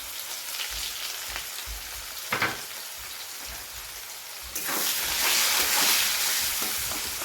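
Thinly sliced onions fry in hot oil with bay leaves, a steady crackling sizzle that swells louder and denser about halfway through, with a few soft clatters of stirring underneath.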